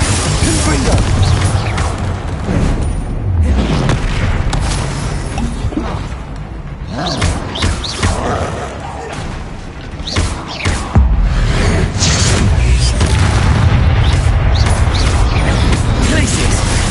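Confringo spell explosions go off during a troll fight in the Hogwarts Legacy video game, with loud booms, whooshes and crashing bursts layered over dense combat noise while a person talks throughout.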